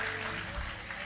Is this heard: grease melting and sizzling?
no